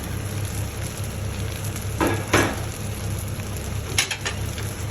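Chopped fried egg being tossed into sizzling fried rice in a hot pan, a steady frying hiss with a couple of brief louder scraping and tossing bursts, no talk.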